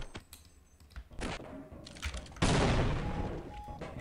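Bursts of sharp weapon fire crack out in Half-Life, scattered single shots followed by a loud, sustained volley near the end, with no talking.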